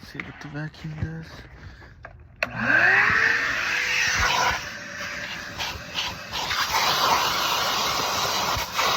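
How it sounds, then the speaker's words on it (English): A vacuum cleaner running over heavily soiled carpet, a loud steady broadband whoosh that starts abruptly and continues close by, preceded by brief talk and a few clunks. "Let's see what the vacuum does."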